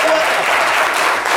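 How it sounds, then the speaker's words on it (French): A French-language studio audience on a TV talk show bursts into loud, dense applause, a brief continuous burst of clapping close and full throughout. "applaudissez le monsieur."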